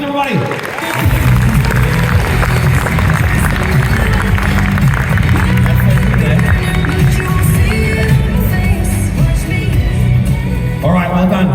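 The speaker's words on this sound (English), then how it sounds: "let's give Mitch a round of applause, everybody." Sustained audience applause and crowd noise at a training session, continuous and loud for about ten seconds with dense overlapping claps and some cheering voices.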